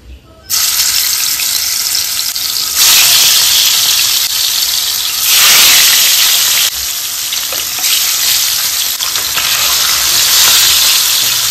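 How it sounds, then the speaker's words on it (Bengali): Fish fries in a pan with a loud, continuous close-up sizzle that swells and eases in waves, with no talk. "এখন সেই মাছটাই ভেজে ওটার ঝোল করবে।"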